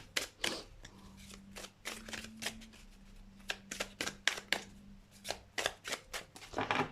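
A deck of playing cards is shuffled and handled close up, with a series of crisp riffling and snapping bursts in an irregular rhythm over a faint steady hum, with no talking.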